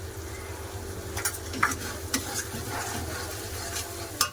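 Ground spices such as coriander and cumin fry in a pan for an egg and potato korma, with a close, steady sizzle broken by rhythmic scraping strokes of a spoon and a few clinks against the pan.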